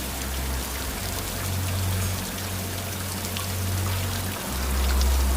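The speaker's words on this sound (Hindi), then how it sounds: "बाहर बारिश शुरू हो गई थी" Steady rain falls outside in a dense, continuous hiss of drops, with a low rumbling hum running underneath.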